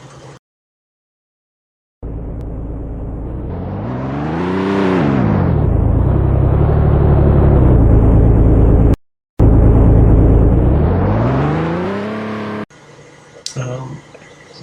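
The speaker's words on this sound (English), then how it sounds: "Then the car drives off." Car engine revving up and pulling away, a loud whine rising and falling twice with a brief cut between, followed by fainter clatter at the end.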